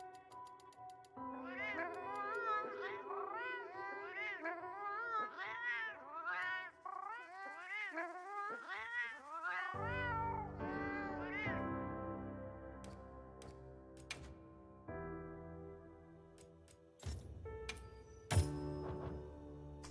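A cat meows repeatedly in the Monster Hunter Generations video game, a quick run of rising and falling mews, followed by sustained game music tones and chimes, with no talking.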